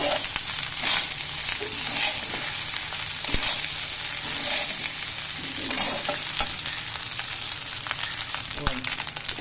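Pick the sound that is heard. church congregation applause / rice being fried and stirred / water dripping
rice being fried and stirred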